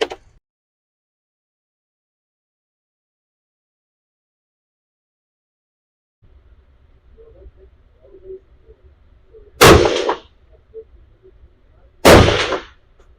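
Two loud, sharp rifle shots from a Ruger American .223 loaded with IMR 3031 powder crack several seconds apart at an outdoor range, each followed by a brief echo over faint background noise.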